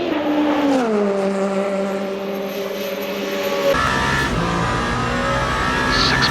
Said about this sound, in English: Back to the Alpine, a very distinct engine note.